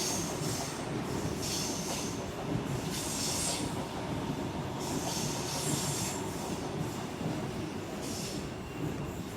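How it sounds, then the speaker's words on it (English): A Sydney train passing through Woollahra station, a steady rumble with repeated high wheel squeals along the rails, fairly close and heard alone. "Train coming in."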